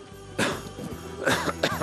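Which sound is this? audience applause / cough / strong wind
cough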